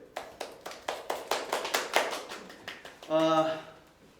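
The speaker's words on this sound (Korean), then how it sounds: "박수 치세요." A small group claps hands in a lively, steady burst of about a dozen sharp, evenly spaced claps at a live-streamed album comeback broadcast, ending with a brief stretch of talk.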